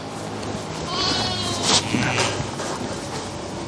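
A ewe bleats in a lambing pen during labour, calling a couple of times over a steady farmyard background, fairly close and clear with no talk.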